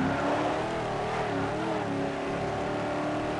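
Car engine in the racing video game Ford Street Racing, a steady loud drone with wavering harmonics as the car drifts, continuous and close with no talking.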